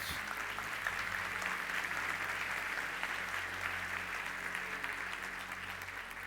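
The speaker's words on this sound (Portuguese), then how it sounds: "Vamos aplaudir ao Senhor e a sua palavra nesta noite." A church congregation applauds, a steady, dense wash of clapping that holds evenly throughout with a low hum of the hall beneath and no voices over it.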